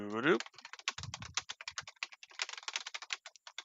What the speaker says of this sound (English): Aggressive typing.